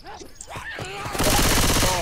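Gunfire erupts in the zombie shooter game Left 4 Dead 2: a loud, dense burst of rapid shots takes over after a second of voices and game sounds.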